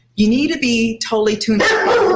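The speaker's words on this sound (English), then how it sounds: "oops, sorry, that's my dog." A dog barks a few times indoors, close by, the sharp barks mixed in with a person talking.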